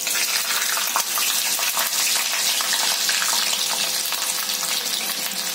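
Garlic fries in a hot pan for a Marathi papad chutney with green chilies nearby, giving a loud, dense, steady sizzle that crackles on without pause and with no talking.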